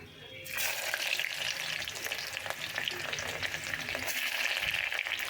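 Chopped onion frying in a pan with mustard seeds and cumin, a loud close sizzle that erupts after a brief quiet start and keeps crackling steadily, with stirring scrapes mixed in.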